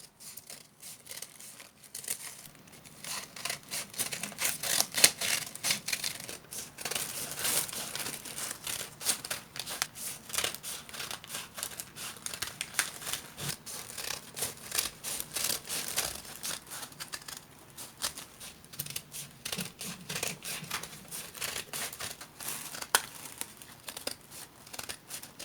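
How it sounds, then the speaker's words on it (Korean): Scissors snip repeatedly through thin diary pages and paper tickets, producing dense, crisp cutting and rustling sounds close up that continue steadily throughout without any voices. "일기 부분이나 티켓만 가위로 잘라주고 나머지는 그냥 버렸습니다."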